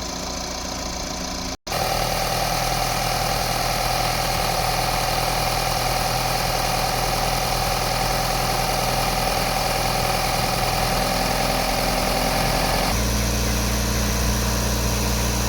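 A Volkswagen Caravelle van engine runs steadily at a loud, even idle, then revs to a different pitch near the end, with a brief cutout early on, during air-conditioning repair checks.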